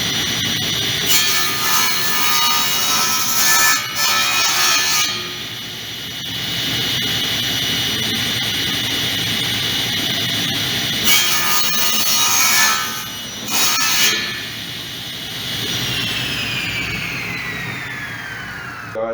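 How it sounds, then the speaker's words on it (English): A table saw with its blade raised to 80 mm cuts through clamped wood, the motor whining loudly and close while the blade bites in repeated rasping passes, then spins down with a falling whine. "So I set my blade to 80 millimeters from the top of the saw, and I just put a clamp on just to help me to hold on to it, and then I cut it"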